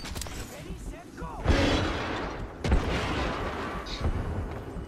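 Grenade blasts in the Apex Legends battle royale shooter, two heavy booming explosions about a second apart, loud and close, with gunfire and game noise around them and players talking over the action.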